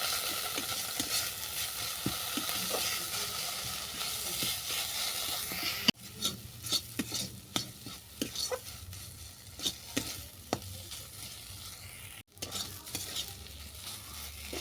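Cauliflower patty filling with garam masala, sugar and grated boiled potato sizzles steadily in a pan while a spoon stirs and scrapes in quick, irregular strokes, close and fairly loud, with two brief breaks in the frying hiss.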